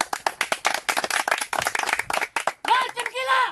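Lively audience clapping at a comedy show, rapid sharp claps with a strong beat that break off near the end as a voice cuts in.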